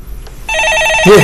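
A telephone rings on a Korean stock-market call-in broadcast: one short electronic ringing burst, loud and close.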